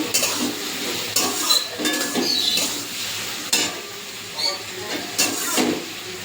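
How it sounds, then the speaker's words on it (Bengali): Taro stolons are sautéed with chilli in a pan with a steady sizzling hiss, broken by scraping stirs and clatter. A voice can be heard faintly at times. "লঙ্কা দিয়ে আমি ভালো করে একটু কষিয়ে নিয়েছি লতির সঙ্গে"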